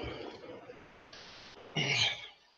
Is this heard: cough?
yes